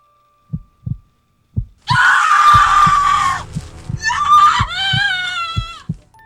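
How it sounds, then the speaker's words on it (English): A woman lets out loud, piercing screams over a slow, steady heartbeat-like thumping pulse, the cries rising and wavering. "let out a howl that would make a banshee cringe"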